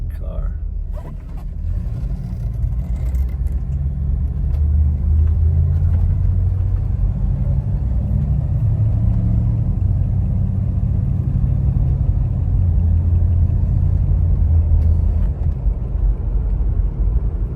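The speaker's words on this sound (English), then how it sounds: "See how it goes through the gears and how well it runs and drives." A 1970 Chevrolet Nova SS coupe is driven on the road, its engine a steady low rumble heard from inside, running continuously through the gears with little change in loudness.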